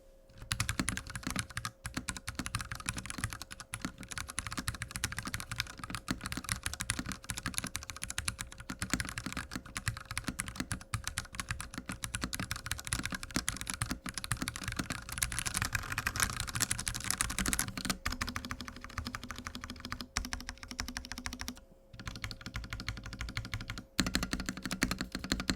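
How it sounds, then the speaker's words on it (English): Continuous typing on a Ducky Project D Outlaw 65 mechanical keyboard, a dense, even patter of close keystrokes for about 25 seconds with a few brief pauses and no talk. "let's drop a sound test so you can hear what the new Ducky Project D Outlaw 65 sounds like."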